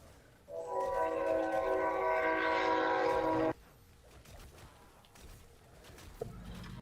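A train horn in Call of Duty 4 zombies blares as a loud, sustained multi-tone chord for about three seconds, then cuts off abruptly, leaving quieter game ambience.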